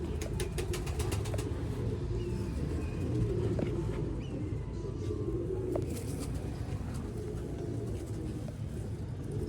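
Rooftop pigeons, prized fancy pigeons kept on a roof, coo softly and steadily at a distance under a constant background hum, with faint chirps now and then.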